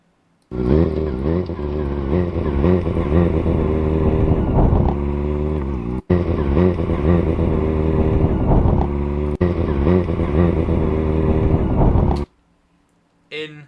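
A motorcycle engine roars loudly and continuously at close range, revving and shifting in pitch over several long runs broken by brief cuts, then falls silent before a short final burst.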